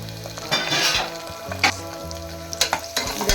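Almonds, cashews, pumpkin seeds and raisins frying in a pan, a loud, close crackling sizzle with bursts of stirring and clinks of a spoon against the metal.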